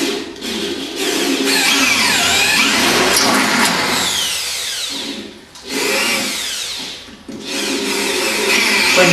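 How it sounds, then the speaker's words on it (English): A power drill fitted with a 6mm bit bores holes for pot rivets, its loud whining motor rising and falling in pitch through several long runs with brief pauses between. "with the drill, we're going to drill it with the 6mm drill bit to take the pot rivets"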